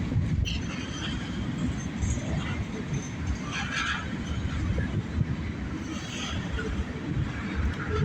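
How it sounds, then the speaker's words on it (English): A mixed freight train rumbles past beneath an overpass, a dense, steady low roar of cars and wheels with occasional faint metallic squeals, continuous throughout and moderately distant. "It's a mixed freight train"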